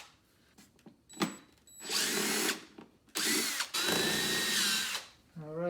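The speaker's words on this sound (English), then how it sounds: "Should use my drill." A power drill whirs in several bursts, removing long screws from a Mercedes-Benz ML350 during an air filter replacement, spinning up and winding down between short pauses, with faint clicks and a brief voice in the gaps.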